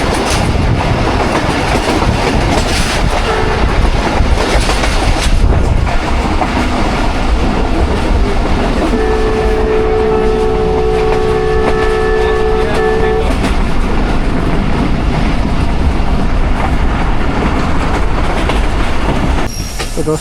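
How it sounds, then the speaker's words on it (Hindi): The 14 Down Awam Express pulls into Gujranwala station, a loud rolling rumble and clickety-clack with a sustained wheel squeal partway through and a brief horn-like tone, continuous for the whole stretch. "14 डाउन अवाम एक्सप्रेस गुजरांवाला रेलवे स्टेशन पहुंच गई है"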